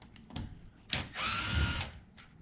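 A power drill unscrews 3 mm screws from the case of an Arrma Kraton 8S RC car, with a short burst followed by a longer steady whir, close up.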